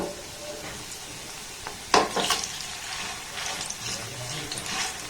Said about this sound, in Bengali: গ্যাসের ফ্লেমটাকে একদম লো রেখে এটাকে কিন্তু উল্টে পাল্টে ভাজতে হবে।